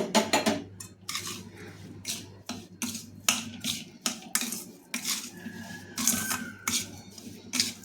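Modak filling is mixed with ghee in a pan on a switched-off stove, giving a rhythm of sharp spoon scrapes and metallic clinks against the pan, close and loud, with no talk.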